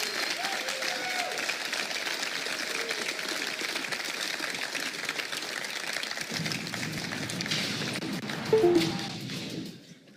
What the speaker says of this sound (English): And this applause is for you.